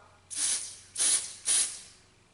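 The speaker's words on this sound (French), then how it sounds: "Et ensuite on met un spray." Sephora quick-dry nail polish spray, three short hissing aerosol bursts in quick succession, close and fairly loud.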